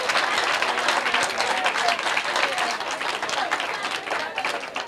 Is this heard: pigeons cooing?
no